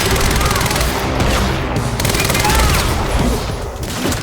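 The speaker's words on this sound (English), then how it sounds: "Jack can hose enemies down with a continuous stream of bullets" Continuous submachine gun fire from Jack's weapon in Quantum Break, a prototype design modeled on the Magpul PDR, rattling loud and close in a steady unbroken stream for several seconds.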